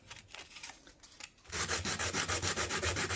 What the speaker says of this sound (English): So we can file this down or sand it down to make a smoother line right here